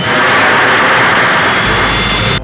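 A loud, steady roar of a rotorcraft engine, close and continuous, with a high whine riding over the broadband noise.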